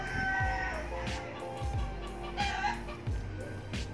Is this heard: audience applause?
no